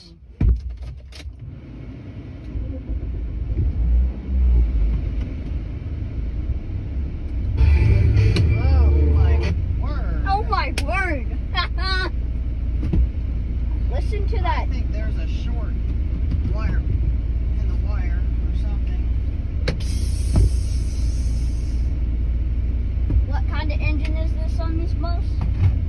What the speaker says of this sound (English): I'll listen to the engine and I'll see what kind it is as we drive.